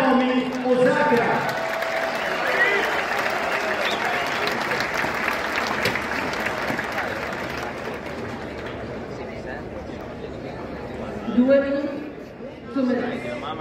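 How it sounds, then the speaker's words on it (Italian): Applause from a tennis crowd welcoming player Naomi Osaka before her match against Zheng, a steady dense wash of clapping that carries on for many seconds, with brief bursts of cheering near the end. "salutiamo con un grande applauso Naomi Osaka"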